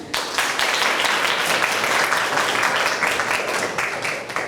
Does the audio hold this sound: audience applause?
yes